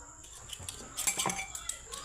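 Plates and cutlery clink and clatter close by during dishwashing, with irregular knocks and rattles peaking in the middle of a short stretch.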